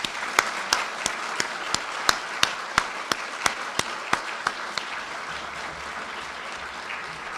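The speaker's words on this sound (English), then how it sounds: "Let's give them a round of applause" An audience at a university presidential leadership awards ceremony applauds in a steady wash, with one nearby clapper's regular sharp claps standing out above it before they taper off toward the end.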